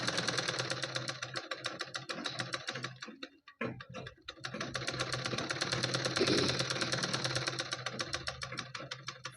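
A sewing machine runs in fast, steady stitching bursts while attaching a fall to a saree, pausing briefly partway through before resuming its rapid mechanical chatter, with no talking.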